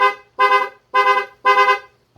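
A car horn sounds four loud, evenly spaced blasts of about half a second each, with a fifth just starting at the end, during a voltage test of a vehicle's fullwave electrical setup.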